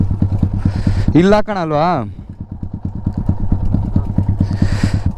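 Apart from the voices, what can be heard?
motorcycle engine running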